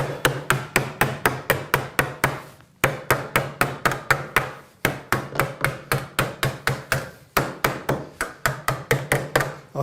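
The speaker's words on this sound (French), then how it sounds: "Et je vais finir au marteau." A hammer strikes thin sheet metal that has been bent over wood and clamped down, landing loud, sharp, close blows in a fast steady rhythm with two brief pauses.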